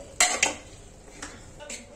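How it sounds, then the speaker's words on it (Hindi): Metal lid set onto a pressure cooker pot, two quick close clanks followed by a couple of lighter metallic taps as it settles. "अब हमने इसकी लीड लगा दी है दोस्तों"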